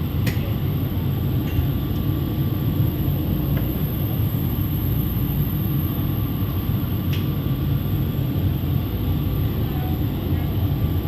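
Steady rumble of an airport metro train picking up speed at Dubai International Airport, a continuous low roar throughout with faint rattles, heard from inside the carriage.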